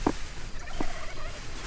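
Wild turkey gobblers gobble in a river bottom in Old Mexico, with two short, sharp bursts, one at the start and another about three-quarters of a second later, heard at a moderate distance over a quiet outdoor background.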